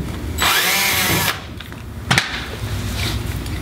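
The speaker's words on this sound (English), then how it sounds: "and then drill that second hole" A power drill whines loudly for about a second as it bores a hole for an anchor trolley pulley on a kayak, then stops, followed by a short sharp knock and quieter handling sounds.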